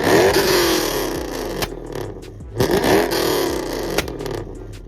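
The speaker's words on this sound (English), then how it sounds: "So now let's listen to his, and he is also catless straight pipe." Dodge Charger or Challenger with a catless straight-pipe exhaust, revved in a few loud bursts that rise and drop back between throttle blips, heard close up.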